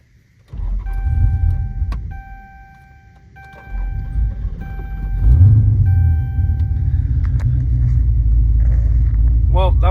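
A cammed 6.4 Hemi V8 on a starting attempt: a steady chime rings while the starter cranks, the engine catches into a loud, lumpy low rumble that keeps idling, and a voice speaks over it.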